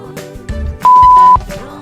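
A steady electronic beep of about half a second, fairly loud, standing out against a busy background of music and other sounds.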